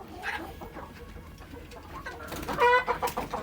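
Chickens cluck and squawk close by, with a busier burst of clucking near the end over a quiet barnyard background.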